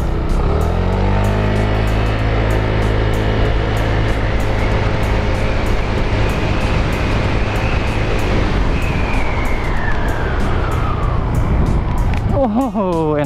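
A Honda Vario 160 scooter revs hard and accelerates close by, a loud, steady engine note climbing in pitch for several seconds before a brief dip and quick rise near the end.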